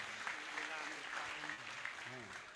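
An audience claps at a Mahadev temple anniversary ceremony, a soft, distant patter of applause mixed with someone speaking.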